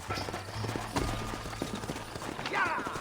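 Horses in the Red Dead Redemption video game clip-clop in quick uneven hoofbeats at close range, with a brief whinny-like sound near the end over low background game ambience.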